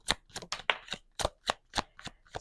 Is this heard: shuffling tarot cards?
yes